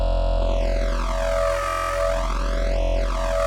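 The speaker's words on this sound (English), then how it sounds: "That's the sound of the comb filter moving." A sustained wavetable synth tone runs through a moving comb filter, with sweeping notches rising and falling to give a phasing shimmer in the upper range over a steady low drone, with no talk.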